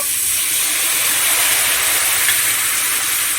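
Water hits hot frying spices in a pan and sets off a loud, continuous sizzle and hiss that stays steady throughout, with no talking.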